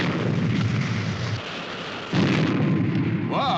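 Weapon fired from the flying submarine Supercar: a loud, sustained booming rumble with a brief drop partway, then resuming strongly, ending with a rising whistle-like sweep.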